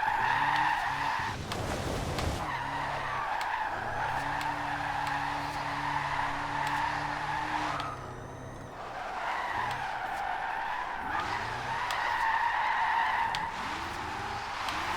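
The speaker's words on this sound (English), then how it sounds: "Okay, so it actually is drifting." Tires skidding and squealing in Forza Horizon 2 as a 2014 Tesla Model S drifts, with a steady engine drone and repeated screeching slides.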